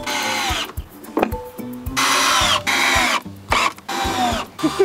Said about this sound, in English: I don't know how to use a drill.